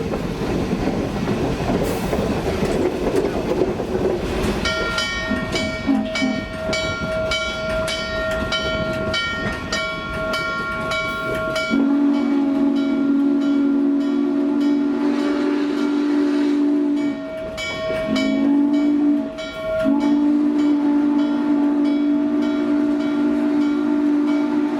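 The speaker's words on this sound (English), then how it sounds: "Even on a video, that Hancock whistle sounds incredible." N&W 611 steam locomotive runs on the Strasburg Railroad, its chugging and rolling wheels loud and close, then its Hancock whistle sounds long, sustained chime blasts with a short break.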